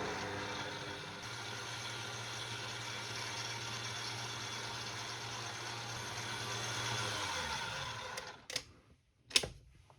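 An electric stand mixer fitted with a paddle whisk hums and whirs steadily while it stirs mascarpone cheese into tiramisu cream, then winds down and stops, followed by a couple of knocks.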